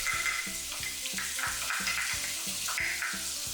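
White parts of green onion sizzle in a hot pan with chicken, a loud close frying hiss broken by regular stirring and scraping strokes, no talking.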